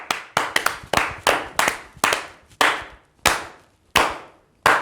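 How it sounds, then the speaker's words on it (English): A small group at a school assembly claps in a loose round of applause, sharp individual hand claps landing irregularly at first, then settling into a slower, steady beat of loud, close slaps with no talking over them. "We got some wins this week. Round of applause."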